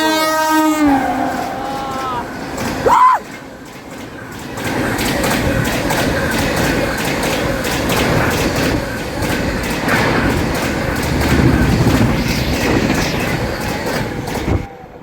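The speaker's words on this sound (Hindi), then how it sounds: "इधर से आ रही है दोस्तों भुवनेश्वर नई दिल्ली तेजस राजधानी एक्सप्रेस जो कि ओवरटेक करेगी हमारी पटना नई दिल्ली राजधानी" The Bhubaneswar–New Delhi Tejas Rajdhani Express overtakes a Patna–New Delhi Rajdhani, opening with a loud horn blast, then a sustained close roar of passing coaches with rhythmic wheel clatter.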